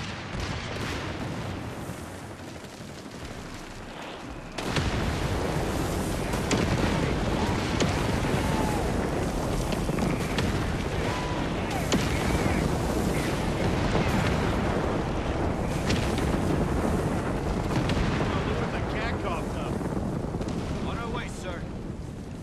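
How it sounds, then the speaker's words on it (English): Artillery barrage in Company of Heroes 3, during the Italy campaign at Villa Literno: after a brief quieter start, a loud, dense roar of overlapping blasts and rumble sets in and continues steadily to the end. "Artillery barrage underway!"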